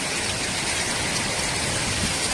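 Heavy rain pours down in Chennai as a dense, steady hiss, loud and unbroken from start to finish.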